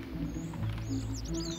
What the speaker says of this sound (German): Das ist eine Bricknell-Drossel.